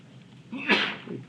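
A single short sneeze in a classroom lecture, moderately loud and close, with no talk over it.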